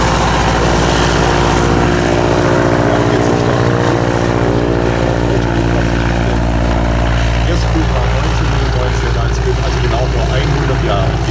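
Steady, loud drone of the 1919 Junkers F-13 all-aluminium propeller aircraft, its engine and propeller humming continuously throughout with no break.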